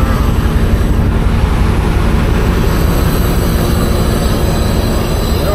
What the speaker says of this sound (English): That's the train, guys.